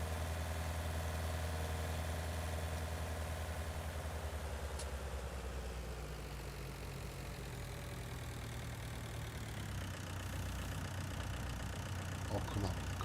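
A tractor engine drones steadily while ploughing in Farming Simulator 19, a continuous low mechanical rumble that shifts slightly in pitch partway through and never stops.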